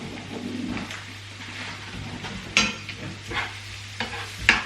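Food sizzles steadily in a frying pan, with ginger powder among the ingredients, as a utensil stirs it with scraping strokes and several sharp clanks against the pan.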